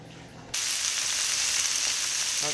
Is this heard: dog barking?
no